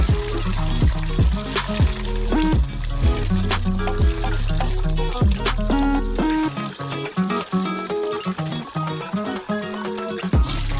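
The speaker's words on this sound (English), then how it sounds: "We put also some gauze into that and filter the broth." Sturgeon-head fish broth is poured from a cauldron through a sieve lined with gauze into clean buckets, a steady splashing stream alongside rhythmic metallic clinks, easing into softer trickling toward the end.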